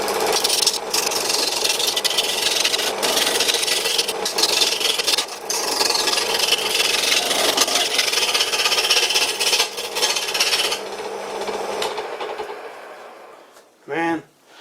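An old wooden wood lathe turns a wood workpiece at about 1000 RPM, a loud steady rasping, rubbing drone with occasional knocks and chatter, cutting out near the end before a short voice sound.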